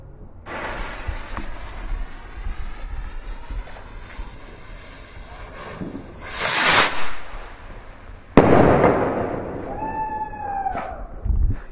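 Nico BS 410 firework rocket launching outdoors: a rushing whoosh swells mid-clip, then a loud sharp bang follows with crackling and a rising whistle-like tail fading afterward, over steady background hiss.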